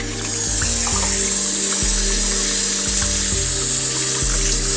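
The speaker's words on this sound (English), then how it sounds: "you can go ahead and kind of rinse out each individual groove" Steady broadband rush of water rinsing the grooves of a sprayer filter from a water/methanol injection system, a loud continuous hiss with low steady tones underneath, no talking.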